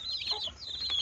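Hen feeding a group of chicks, soft clucking mixed with thin high peeping from the chicks, quiet and close, with no talking.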